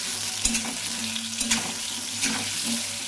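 Potatoes frying in oil with turmeric and salt for a Bengali mixed vegetable dish, a steady close sizzle with occasional soft stirring clatter and spatter bursts, no talking.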